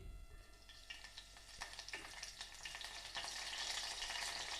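Curry leaves sizzle and crackle in hot oil for tomato rasam, a soft close frying hiss with scattered pops that grows denser toward the end.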